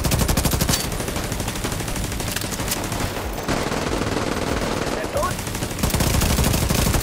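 Sustained mounted machine gun fire in The Division 2, a loud, dense stream of rapid shots running almost without pause, with brief dips around the middle and a renewed burst near the end, with faint talk in the background.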